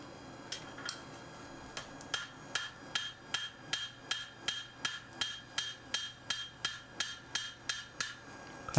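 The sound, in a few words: hammer forging metal on anvil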